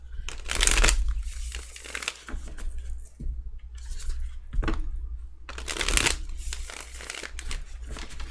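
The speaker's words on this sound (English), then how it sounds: "they're shuffling like kind of okay" Tarot cards being shuffled in several quick bursts, crisp riffling and flicking with short pauses between, close to the listener over a low background hum.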